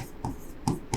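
Chalk or marker strokes on a board during a physics lesson, three short scratchy taps in quick uneven rhythm, close and fairly quiet, with no talking.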